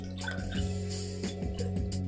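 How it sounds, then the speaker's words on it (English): Unsweetened macadamia nut milk being poured into a kettle, giving soft liquid trickles and drips over a steady low background hum, with no speech. "we're just gonna pour into our kettle because we're gonna warm this bad boy up on the stove"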